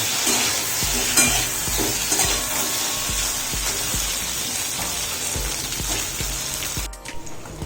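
Arbi (taro root) frying with red chilli powder and spices in an open pan, a steady loud sizzle with crackles and occasional stirring scrapes throughout, easing off near the end.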